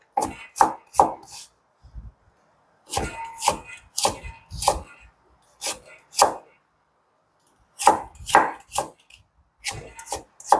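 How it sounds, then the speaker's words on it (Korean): A knife julienning a carrot into 6 cm strips on a cutting board during a Chinese cooking certification practical, heard as close, crisp bursts of rapid chopping strokes separated by short pauses, with no talking. "당근 6cm 채 썰어줍니다."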